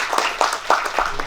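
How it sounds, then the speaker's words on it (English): Audience applause at a conference talk, with dense, steady clapping from a crowd in a hall that continues throughout at a fairly loud level, and no voices over it. "let's just give them a round of applause again"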